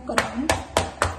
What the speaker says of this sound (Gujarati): ટેપ કરવાનું